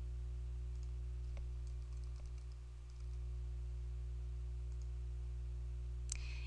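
Quiet, light clicks of keys on a computer keyboard while entering a word into a spreadsheet, a few scattered taps over a steady low electrical hum.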